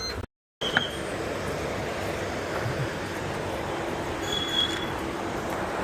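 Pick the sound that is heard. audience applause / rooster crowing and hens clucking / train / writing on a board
train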